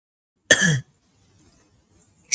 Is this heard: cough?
yes